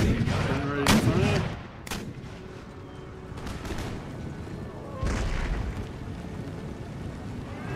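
Cannon and musket gunfire from a Venice battle in the video game Empire: Total War. A few heavy booming blasts crack out at uneven intervals over a continuous rumbling battle din.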